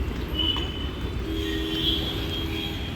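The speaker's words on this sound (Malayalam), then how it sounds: "കണ്ടോ ട്രെയിന് വരുന്നുണ്ട്." A train approaches at a railway crossing with a steady rumble and faint high squeals, moderately distant and building gently.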